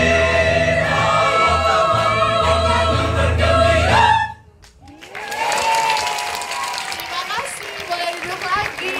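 Children clap at a concert in a steady loud wash of applause mixed with music, then it drops away into excited children's voices and chatter.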